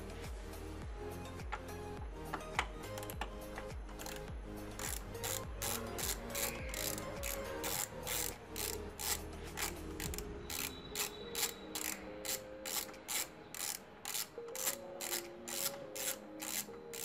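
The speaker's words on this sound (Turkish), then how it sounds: "buradan tek bir vida var, onu sökelim." A ratchet is driven repeatedly to back out the single screw holding a car alarm siren, giving a steady run of sharp rhythmic clicks that sit close and loud, with no talking over them.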